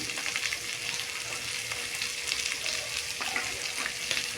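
Spiced corn chivda with coriander-cumin powder and salt is stirred in a pan, giving a steady, close sizzle with light stirring and scraping and no talking.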